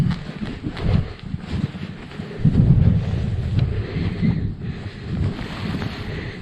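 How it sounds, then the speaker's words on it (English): Strong wind of about 25 mph on open Dartmoor moorland buffets the microphone in low, rumbling gusts that rise and fall throughout, with no voices. "I think it's just going to be windy. It's like 25 miles an hour."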